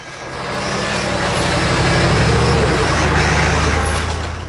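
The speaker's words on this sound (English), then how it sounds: "drive the Humvee slowly" A HMMWV Humvee drives slowly through mud, its diesel engine giving a steady, loud low rumble with harmonic drone that holds throughout, alone without talk.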